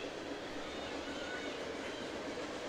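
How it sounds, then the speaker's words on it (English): A train rolls steadily past an outdoor soccer stadium during a women's college semi-final, a continuous broad rumble with a faint rail hiss that holds at even loudness throughout, fairly near and with no talk over it. "Train rolling by at Starfire Stadium."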